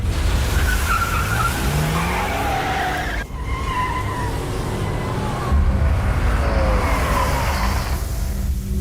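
A car tears away at speed in a tense action-movie getaway, tires skidding and squealing loudly over a roaring engine that stays steady and close throughout, dipping briefly before surging again.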